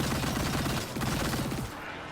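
Rapid automatic gunfire in the video game Immortal: Unchained, a loud, close, fast rattling burst of repeated shots that runs steadily for about a second and a half, then cuts off into lingering noise.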